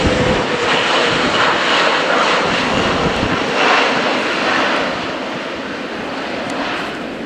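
An Airbus A400M military transport aircraft flies a display at the RIAT air show in Fairford, its loud turboprop roar sweeping past and gradually easing as it moves away.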